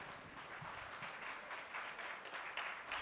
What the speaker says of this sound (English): A big round of applause for the Honorable Minister.